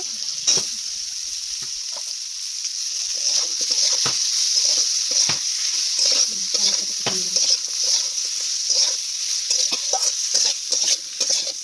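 Eggplant sizzles loudly in a hot pan, with repeated scraping stirs of a spoon breaking through the constant frying hiss.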